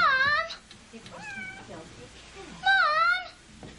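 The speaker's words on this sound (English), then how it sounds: "It was the cat." A cat in a horror film yowls in drawn-out, wavering meows, a long cry at the start, shorter calls in the middle and another loud rising wail near the end, close and clear.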